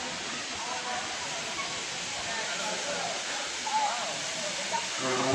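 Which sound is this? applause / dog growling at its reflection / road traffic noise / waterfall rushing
waterfall rushing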